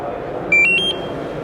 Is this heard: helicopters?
no